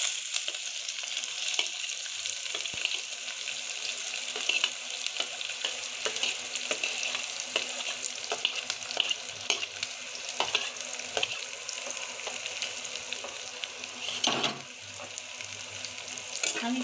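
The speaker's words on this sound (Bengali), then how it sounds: "আমি পেঁয়াজটা এখন লাল লাল করে ভেজে নেব।" Chopped onions sizzle steadily in hot oil in a pan for a Bengali eggplant dish, a continuous close frying hiss with occasional faint clinks of stirring and no talk.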